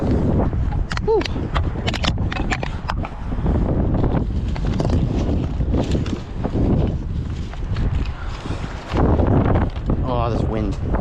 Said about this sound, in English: Oh, this wind drives me nuts.